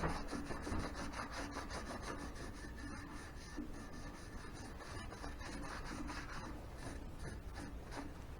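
Quiet, steady rubbing of Danish oil into a wooden hand-line hobo reel, with a continuous soft scuffing rasp and faint regular rhythmic strokes close by, alone without talk.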